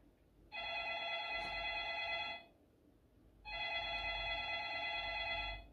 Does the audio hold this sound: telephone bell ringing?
yes